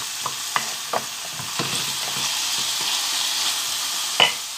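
Chicken pieces and onion frying in a pan for a savory pastry filling, with a constant sizzle broken by several sharp scrapes and knocks of a utensil stirring them.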